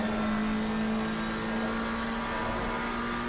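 A race car engine drones steadily in Assetto Corsa Competizione at Spa, a constant, moderately loud hum at even revs with no talk over it.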